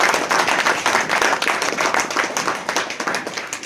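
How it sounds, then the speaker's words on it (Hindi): Loud, sustained audience clapping at a trust's grand opening ceremony in Fatehpur, Bhagalpur, welcoming guests with dense, steady applause throughout. "बड़ा जोरदार ताली के साथ स्वागत किया जाए।"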